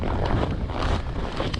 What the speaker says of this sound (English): It's mostly just this wind that's freezing